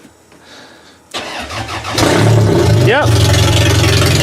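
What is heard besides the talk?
Toyota Solara car engine starting and idling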